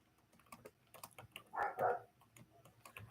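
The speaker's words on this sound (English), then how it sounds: "That's my neighbor's dog barking." A neighbor's dog barks twice in quick succession, a moderately loud pair of yaps in the middle of an otherwise quiet stretch with soft clicking and tapping around it.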